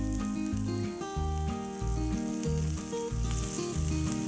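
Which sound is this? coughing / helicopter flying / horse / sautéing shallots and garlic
sautéing shallots and garlic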